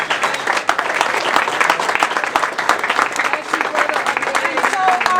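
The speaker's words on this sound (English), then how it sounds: "Can we just give him a round of applause?" Audience applause at an evening speaking event, dense steady clapping that stays loud from start to finish, with a few brief voices and calls mixed into the crowd noise.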